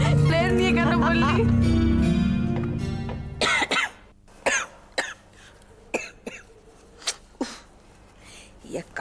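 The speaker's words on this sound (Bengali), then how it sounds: "কাশি হচ্ছে।" A woman coughs in a domestic scene from a Bengali TV drama, a series of sharp, separate coughs following loud background music that fades out.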